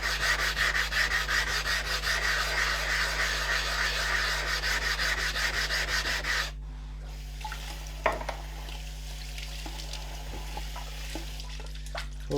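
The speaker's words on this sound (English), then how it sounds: "let's surface the stone with this thick stone, thick abrasive stone." A thick abrasive stone scrubs across a wet NSK Oboro sharpening stone to flatten it, making close, rhythmic gritty rubbing for about six seconds before stopping, followed by quiet with a few small clicks.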